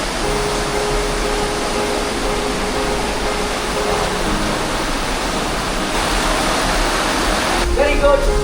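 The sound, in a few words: waterfall on Lombok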